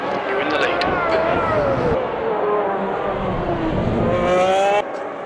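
A McLaren Senna MP4/6 Formula One car screams through gears in a racing video game at the Brazilian track, high engine pitch rising and dropping with shifts, over continuous excited commentary talk.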